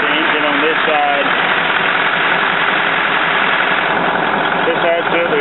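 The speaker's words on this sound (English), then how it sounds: "She is air brakes, diesel, dual saddle tanks. Catch the engine on this side." 1986 GMC Topkick C6500 diesel truck with air brakes and dual saddle tanks idling nearby, a steady low rumbling engine with a faint whine, with someone talking over it.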